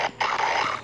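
A dog growls and barks in a video game, a short snarling bark followed by a sustained rough growl, loud and close with no talk.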